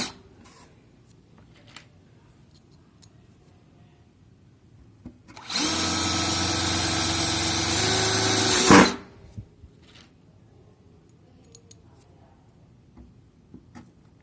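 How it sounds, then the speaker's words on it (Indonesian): A cordless drill driver fitted with a dimpler bit drives a screw into gypsum board, whining loudly for about three seconds and rising slightly in pitch before stopping with a clunk, while faint ticks and taps come before and after. "kita coba dengan mesin bor yang lain"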